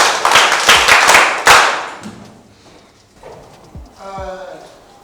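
A class of students claps for one of their own in a quick, dense burst of hand claps lasting under two seconds, followed by quieter voices.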